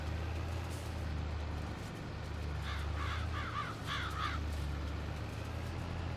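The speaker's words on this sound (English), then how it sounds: "Those crows, God, they're a pain." Several crows caw in Farming Simulator 22 during fieldwork, two clustered bursts of harsh repeated calls rising over a loud, steady low tractor engine drone.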